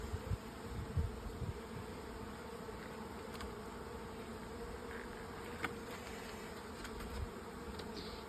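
Buckfast honey bees swarm around an open garden hive during a transfer from a nuc, a dense steady buzzing hum running throughout with a few individual bees droning closer past the ear.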